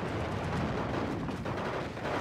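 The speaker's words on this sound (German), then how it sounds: "Der Panzer 4 ist natürlich jetzt am Schießen." A Panzer IV tank firing in the Steel Division 2 war game, heard amid a dense rumbling battle din of gunfire and distant explosions throughout a short stretch, with no voices.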